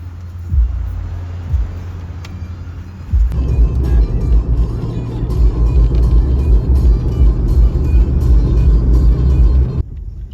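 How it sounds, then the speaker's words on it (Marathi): A car engine rumbles low and steady from inside the vehicle, starting after a few seconds of quieter hum and cutting off near the end. "गाडी आलेली आहे आपल्याला घ्यायला"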